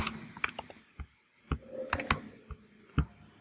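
Keys clicking on a computer keyboard as a name is typed in, sparse separate taps with brief pauses, close and clear with no voices.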